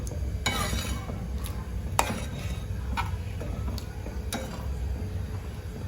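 A spoon stirs a milk shevbhaji mixture in a pan, scraping and clinking against the metal at irregular intervals over a steady background of low kitchen noise.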